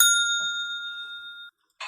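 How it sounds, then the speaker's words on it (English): A single small bell struck once for a podcast's listener-feedback segment, ringing bright and clear with a long sustained decay that cuts off sharply, followed by a brief burst of noise. "We gotta hit the bell."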